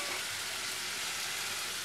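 Onions and tomatoes sauté in a pan with a steady, close, bright sizzling hiss that holds evenly throughout, with no talking.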